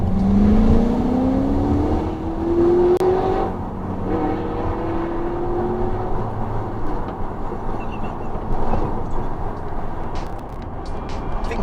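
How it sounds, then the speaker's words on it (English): A replica GT40 sports car drives past on an open road, its engine note rising in pitch as it approaches, then sweeping lower as it recedes, loud and continuous with steady road roar underneath. "Just as hot but slightly less flamey, this delightful replica GT40. Although I assume it's a replica, either way, it sounds on form."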